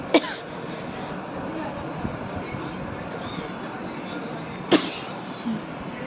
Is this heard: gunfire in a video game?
no